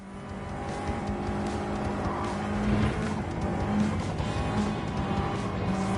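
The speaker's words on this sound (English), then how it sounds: "It keeps fluttering. What the heck? Why is it fluttering?" A Toyota AE86 in the Gran Turismo racing game drones through its engine note with a fluttering turbo, the steady synthetic motor sound wavering under faint tyre noise at a constant, moderate level.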